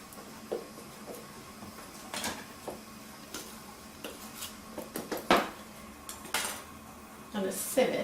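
Milk tart ingredients beaten in a bowl with a utensil, giving scattered light clinks and taps against the bowl at an uneven pace, fairly quiet and close.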